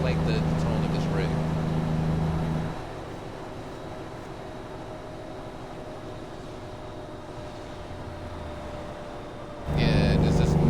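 A Kenworth T2000 truck in American Truck Simulator gives a steady, droning engine hum that drops away to a quieter rumble for several seconds, then returns just as loud near the end.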